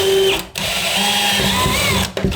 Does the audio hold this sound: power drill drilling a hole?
yes